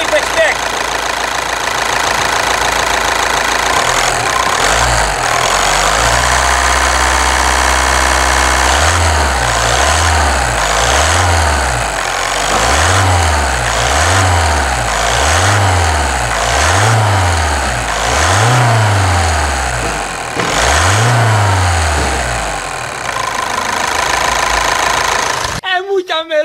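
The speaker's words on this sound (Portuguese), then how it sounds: "Uma melodia esse motor, hein? Que barulhinho top, olha só." A Volkswagen Amarok 2.0 engine idles, then is revved repeatedly in a run of regular, rising-and-falling bursts before settling back, loud and close, with people talking over it.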